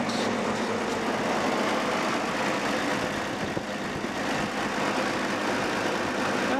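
Engine of a 1946 Dodge truck idling steadily with a low, even rumble and constant mechanical drone throughout, moderately close and without any voices.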